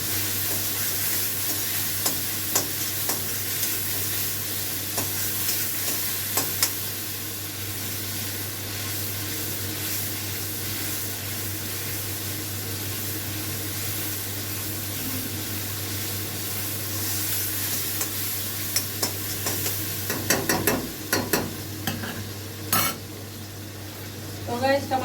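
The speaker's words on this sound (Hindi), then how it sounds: "टमाटर मेरा भुन गया है" Tomatoes frying in a pan while being stirred, a soft continuous sizzle under a steady hum, with scraping and clinking of a spoon against the pan growing busier toward the end.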